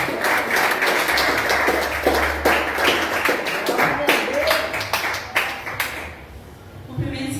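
A church congregation claps during a worship service, a crowd of hands beating in a loose rhythmic patter for several seconds, with voices mixed in and the clapping thinning near the end.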